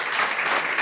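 Audience applause at the closing panel of a psychoanalytic symposium, a dense, steady wash of clapping filling the hall for the whole moment without letup.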